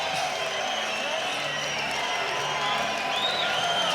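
An arena crowd cheers and applauds between rounds of a light heavyweight MMA bout, a continuous loud roar of many voices with whoops rising near the end.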